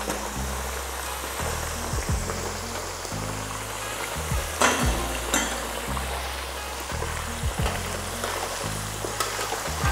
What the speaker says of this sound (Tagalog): Lutuin lang natin ito hanggang sa mag-start ng mag-brown yung patatas.